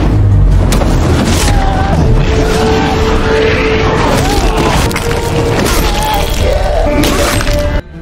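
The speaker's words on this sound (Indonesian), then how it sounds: "dia meledakkan sebuah gudang minyak di markas itu" A loud, sustained explosive roar as an oil warehouse blows up, with cracking and splintering debris, continuous and close, cutting off abruptly at the end.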